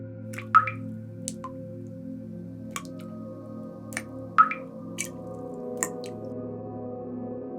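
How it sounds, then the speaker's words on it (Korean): Water drops falling in a bathroom and sink, isolated plinks and drips spaced irregularly a second or two apart, clear and close over a quiet low household hum. "욕실과 싱크대 쪽에서 떨어지는 물방울 소리가 조용한 집안에 울려 퍼졌어."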